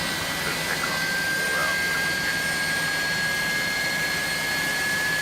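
Jet engines of a Boeing 757-200 spooling up for takeoff in a flight simulator game, a steady whining roar with a sustained high tone, heard alone.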